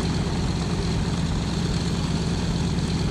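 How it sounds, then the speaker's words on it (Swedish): A helicopter in the survival video game DayZ drones with a loud, steady rotor and engine roar throughout, close and unbroken, with no talk over it. "Där är han, helikoptern."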